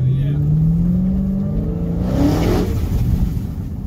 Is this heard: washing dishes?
no